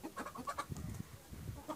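Roosters cluck and squawk in quick, agitated bursts while fighting, fairly faint, with scuffling movement underneath.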